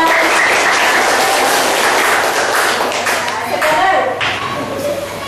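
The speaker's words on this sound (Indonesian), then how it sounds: "Tepuk tangan untuk juara." A primary school classroom breaks into applause for a winner during a maths lesson on fractions, loud and dense clapping from many children close by that holds for several seconds before thinning slightly.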